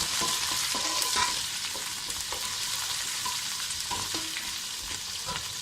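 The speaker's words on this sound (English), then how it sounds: "Stir it well." Food sizzling steadily in a hot pan while a utensil stirs it, with scraping clicks scattered throughout; close, even frying with no talking.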